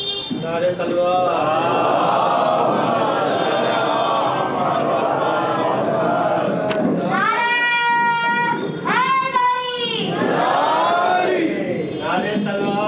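A large crowd at a religious gathering in Kolkata chants salawat together in loud unison responses, sustained collective voices with a lead voice calling out between them.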